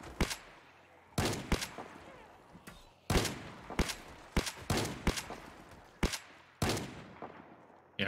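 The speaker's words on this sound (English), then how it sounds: "Well, at this point, I think we should shoot, right?" Gunfire rattles through a co-op survival game in repeated loud bursts and single sharp shots at irregular intervals, each ringing out with a short echoing tail over a low background.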